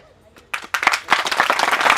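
An audience starts clapping with a few scattered claps that quickly swell into dense, close applause, and voices talk over it.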